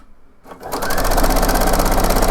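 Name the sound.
sewing machine stitching blouse fabric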